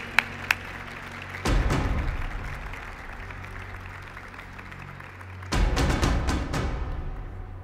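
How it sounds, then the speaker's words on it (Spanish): Applause from the audience at an awards gala in Cali, Valle del Cauca: a couple of sharp knocks, then a sustained wash of clapping from a crowd, a quieter stretch, and another burst of clapping toward the end. "por supuesto que se escuche el aplauso"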